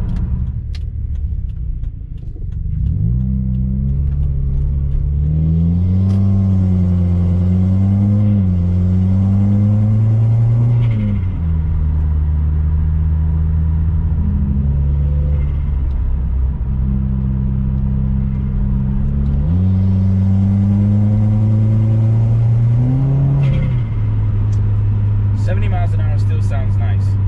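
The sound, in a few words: Remark axle-back exhaust on 2016 Subaru WRX driving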